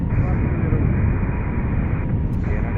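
A Southwest jet airliner departing near an airport, heard as a steady, loud broadband engine roar with jet blast that holds unchanged throughout.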